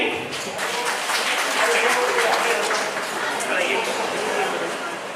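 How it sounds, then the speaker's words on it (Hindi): Applause and crowd noise rise at a success celebration for NEET-qualified students, a continuous wash of clapping from the audience that stays steady throughout, with voices mixed in underneath. "तालियां बजाइए भाई।"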